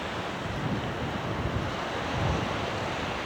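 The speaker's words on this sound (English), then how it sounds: "So this is it then, Tristral Beach." Waves wash onto Trestraou beach in Brittany, France, as a steady, dense roar of surf mixed with wind rumble, with no one speaking.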